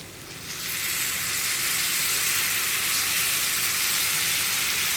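Ground masala paste for potato masala hits a hot pan, giving a loud, steady sizzle and hiss that swells in the first half-second and then holds evenly throughout, with no voices.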